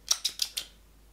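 Four quick, crisp snips of kitchen scissors cutting open a box, in an even rhythm, close and fairly loud, then quiet.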